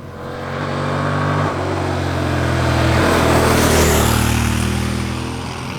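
Motorcycle engine pulling hard after a downshift of a gear or two, a loud, steady throttle roar that climbs in pitch and swells close by, with no talking.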